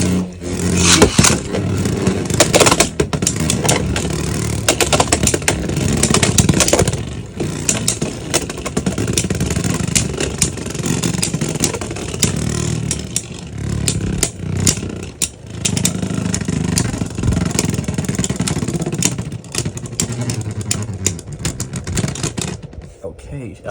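Beyblade tops spin and clash in a stadium battle, with a dense rattling, scraping whir that carries steadily through the whole stretch. A person talks over it.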